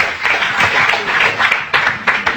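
Audience applause and clapping fill a hall at a religious debate event, a dense steady patter of many hands at fairly loud level with slight swells and no voices over it.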